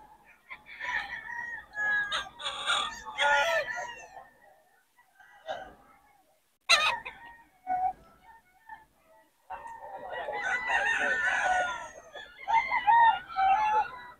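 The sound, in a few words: roosters crowing and clucking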